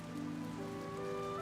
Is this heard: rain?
yes